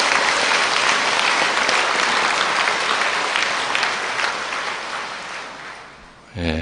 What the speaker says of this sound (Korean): 그래도 박수, 축하의 박수 한번 보내드리죠